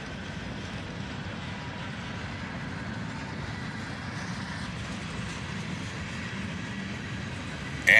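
Freight train with five locomotives, including a road slug, accelerating past with tank cars and boxcars, a long steady rumble and rolling wheel noise at moderate distance.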